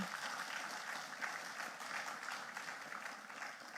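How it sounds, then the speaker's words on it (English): Sustained audience applause closing a university lecture, steady dense clapping from a large seated crowd throughout, no talk over it. "let's give the speaker a round of applause again"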